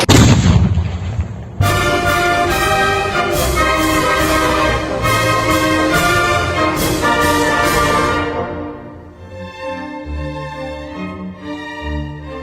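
A 122 mm 2S1 Gvozdika self-propelled howitzer fires once with a loud, booming blast that rolls away, followed by a steady, rhythmic tonal backing.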